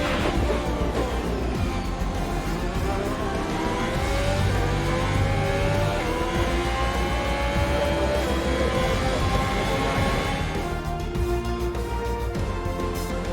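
An F1 race car in the F1 2021 video game at Spa-Francorchamps drives with a continuous loud engine note, revving and shifting through gears with rising and falling pitch.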